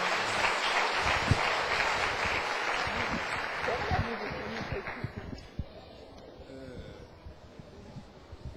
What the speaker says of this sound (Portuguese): Uma salva de palmas pela vida do pastor.